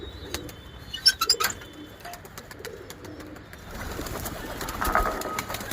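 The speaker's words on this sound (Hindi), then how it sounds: "चलो बाकी अपने सारे कबूतरों को निकालते हैं बाहर" Pigeons cooing and fluttering nearby, with a few quick bursts of wing flaps and soft chirps over light outdoor background noise.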